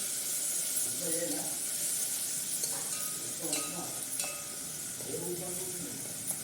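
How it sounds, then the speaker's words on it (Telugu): Green chilies fry with a little salt in a pan for potato dosa, giving a steady bright sizzle throughout, with soft clinks from stirring at a few points and faint talk in the background. "మంచిగా వేగాలి పచ్చిమిరం"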